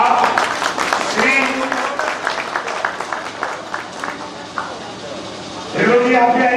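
An audience claps at a sanitation workers' conference, a dense, steady patter of applause that swells again near the end, with voices talking over it.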